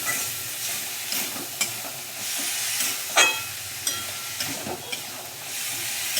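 Boiled peas being stir-fried in a kadai for ghugni make a steady close sizzle, broken by repeated scrapes and taps of a spatula against the pan, with no talking.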